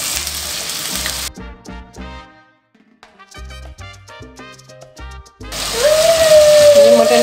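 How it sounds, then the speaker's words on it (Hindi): Mutton frying in a karahi with garlic-ginger paste, a steady close sizzle that drops away briefly mid-clip under clinks and stirring, then returns loud and continuous. "अब हमने इसमें ऐड किया लहसुन अदरक का पेस्ट, साथ में हम ऐड कर देंगे मटन, फ्राई करेंगे अच्छे से"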